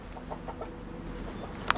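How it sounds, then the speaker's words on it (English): Chickens in a hen house give soft, scattered clucks at a moderate distance, with one sharper, higher squawk near the end. "And there's our hen house."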